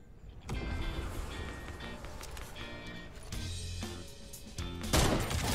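Gunfire in a Fortnite match, a rapid burst of sharp shots and clattering action sounds with a loud crack near the end, busy game audio with no talk.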